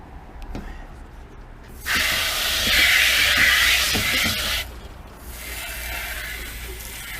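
A hose sprays water to rinse off distilling equipment while making moonshine mash. A steady, loud hiss starts after a quiet moment, runs for about three seconds, then cuts off, leaving a softer spray underneath.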